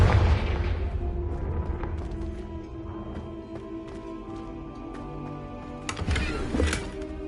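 Confringo blasting spell explosion in the Hogwarts Legacy video game on PlayStation 5, a deep booming blast at the start that rumbles off, followed by a second sharp burst later over a steady game backdrop.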